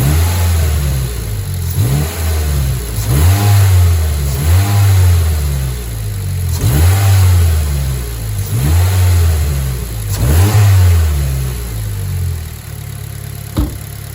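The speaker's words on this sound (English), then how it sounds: "So I'll set the camera up and I'll rev it for you guys," A Mazda 3 engine fitted with a new intake, revved repeatedly at close range: several rising and falling rev cycles that return to idle between them, loud and free of talk.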